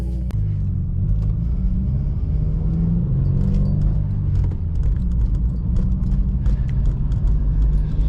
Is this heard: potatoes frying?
no